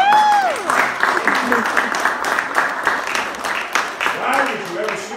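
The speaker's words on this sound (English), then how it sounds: "give her a great round of applause" An audience at a political endorsement event applauds in a continuous patter of clapping, with voices speaking and calling out over it.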